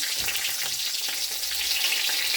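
Green chilies and panch phoron sizzle in hot oil, a steady close hiss of frying with faint crackles throughout and no voices.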